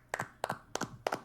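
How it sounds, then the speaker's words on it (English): Four sharp hand claps, each a quick double smack, come at an even pace, close and fairly quiet, with no talking over them. "Clap it up."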